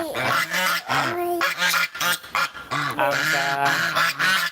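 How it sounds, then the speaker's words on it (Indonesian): Geese honk repeatedly in loud, close, harsh bursts, several calls overlapping in an irregular rhythm with brief gaps between them. "Angsa."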